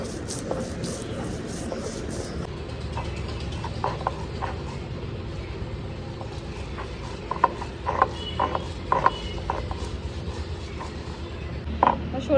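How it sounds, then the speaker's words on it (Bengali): Mustard seeds for shorshe ilish ground by hand on a stone, a rough rhythmic grinding scrape under a busy kitchen, with scattered clicks and knocks and a brief high hiss at the start. "সরিষাগুলো একটু বেটে নিচ্ছি।"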